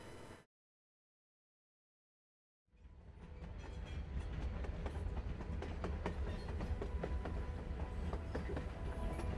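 A train rolls along the rails in the video game Life is Strange, its steady, loud rumble and rhythmic clatter starting after a brief silence and continuing unbroken.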